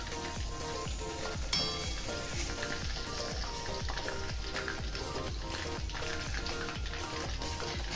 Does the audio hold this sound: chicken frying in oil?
yes